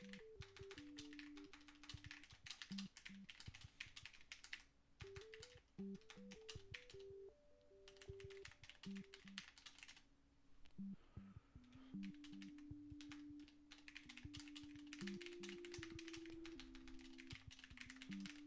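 Rapid, steady typing on a computer keyboard during a timed writing sprint, the clicking continuous and close over a soft melodic background tune, with a short lull in the middle.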